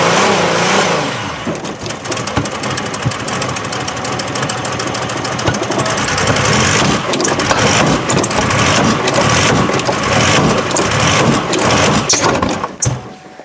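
Crashed Impala race car engine running rough and loud up close, a dense ragged clatter with uneven rhythm throughout, sounding damaged and unsettled.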